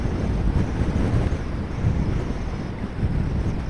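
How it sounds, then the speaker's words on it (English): Strong, steady wind buffets the microphone, a loud continuous rumbling roar throughout with no voices. "It's really, really windy now."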